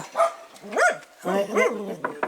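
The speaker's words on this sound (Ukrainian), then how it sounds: "Собак приблудних у нас тут по 20 штук живе." Stray dogs in Dnipropetrovsk Oblast bark in several loud, close yelps and howl-like barks, with short gaps between them and no talk over them.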